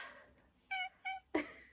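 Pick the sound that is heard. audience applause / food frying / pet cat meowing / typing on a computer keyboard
pet cat meowing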